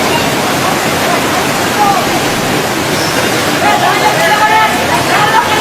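Floodwater from the 2004 Indian Ocean tsunami surges into a hotel in Sri Lanka, a steady, loud, broadband roar with excited voices and shouting in the foreground.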